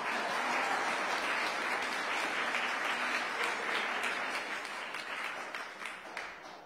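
An audience applauds at a bill signing ceremony for early voting legislation in Connecticut, a dense, steady roar of clapping that holds for several seconds and then fades slightly toward the end.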